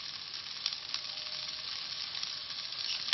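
Kofta sizzling in a pan with a small drop of oil, a steady, fairly quiet hiss of frying that holds without a break, with a few faint crackles and pops and no talk over it.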